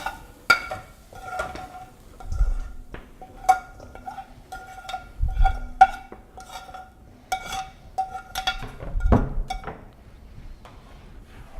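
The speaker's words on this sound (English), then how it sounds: "Give that a little bit of stir, incorporate all the flavor" Cauliflower soup stirred in a cooking pot, with repeated metallic clinks and scrapes of a utensil against the pot wall spread over several seconds, plus occasional low bumps.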